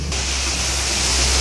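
A waterfall gives a dense, steady rushing roar, loud and unbroken for the whole moment, with no voices.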